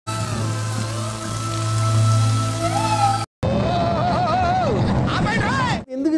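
Steady rain pours on a surface, a dense continuous hiss that drops out briefly, with voices and a melodic tone over the second half.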